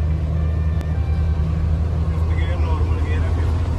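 A modified Mahindra Thar with an upgraded stage-one ECU cruises in fifth gear near 110 km/h, its steady low engine drone and road rumble loud and continuous throughout, with no talk over it.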